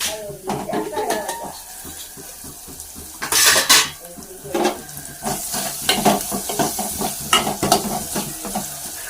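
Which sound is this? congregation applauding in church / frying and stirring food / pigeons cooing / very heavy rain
frying and stirring food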